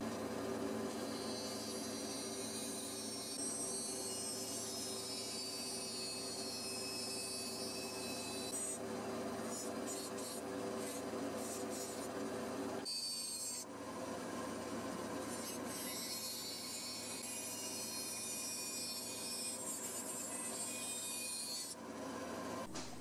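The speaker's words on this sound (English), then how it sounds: "So we just finished sanding," Continuous rasping of sandpaper on scrap wood for a handmade paper towel holder, steady close scrubbing strokes with a brief pause midway and near the end.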